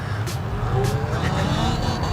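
Talaria XXX electric dirt bike accelerating hard into a wheelie, a rising whine over steady, loud broadband road and wind noise with faint rhythmic pulses, heard up close.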